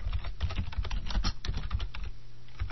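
Rapid typing on a computer keyboard, a dense run of close, crisp keystrokes with uneven rhythm that continues throughout, heard alone without voices.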